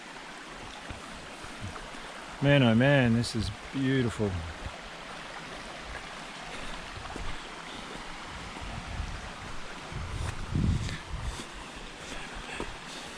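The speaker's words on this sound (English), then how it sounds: "Wow, this is a stunning creek." A creek flows through a gorge with a steady, broad rush of water that runs the whole way through, while someone speaks briefly over it near the start.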